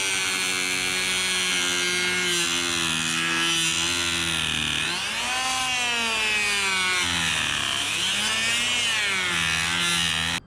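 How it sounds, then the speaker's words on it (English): A Dremel rotary tool cuts away metal where it fouls the intercooler on a twin-turbo Nissan 350Z, a loud, steady high-pitched whine that sags in pitch twice as the cutting wheel bites harder, then runs on without pause until it cuts off at the end. "we're just going to go to town with the Dremel"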